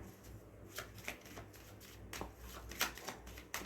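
Tarot cards are shuffled in a run of soft, riffling flutters and taps, close and moderately loud, with no speech over them.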